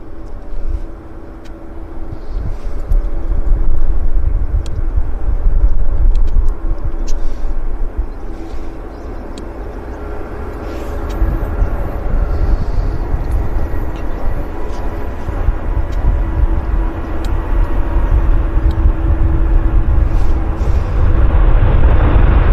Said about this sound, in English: So this is WestJet 705 from Calgary, no, Toronto. 737-700, short and stubby job.